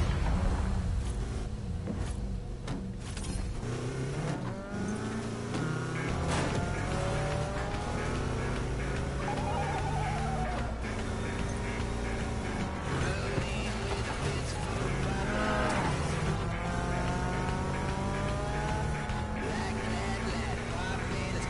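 Race car engines in the video game Need for Speed Payback roar continuously, their pitch rising and falling as the cars rev and shift, loud and steady throughout.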